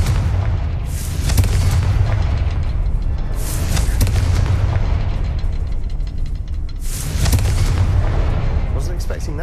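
Heavy booming blasts of a Confringo fire spell in Hogwarts Legacy, with a deep continuous rumble and two loud bursts, and a voice speaking over the game.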